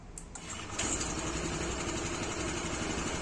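A Honda PCX scooter engine cranks on the electric starter without throttle and catches, then settles into a steady, buzzy idle close by.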